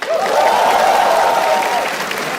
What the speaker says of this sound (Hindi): थोड़ी तालियां हमारे ओपनिंग एक्ट के लिए भी।